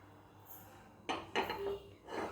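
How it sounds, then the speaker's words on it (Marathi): Ghee swirled in a metal appe pan, quiet background then a few clinking metallic knocks and scrapes as the pan is tilted and moved, close and brief. "एक आप्पे पात्र घ्यायचं आहे आणि त्यामध्ये तूप घातलेलं आहे"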